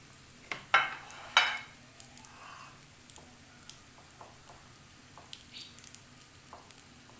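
Potato chicken balls fry in a pan with a soft sizzle, opened by two sharp splattering bursts as pieces go in, then quieter scattered crackles and pops, close by with no talking.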